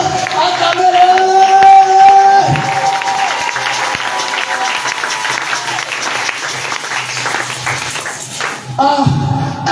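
A church congregation applauding, sustained dense clapping throughout with organ or keyboard tones held over it, loud and close, briefly dipping near the end before resuming, with voices mixed in.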